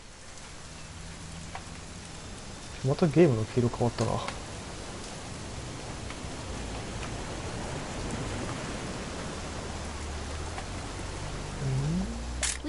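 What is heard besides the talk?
rain in a video game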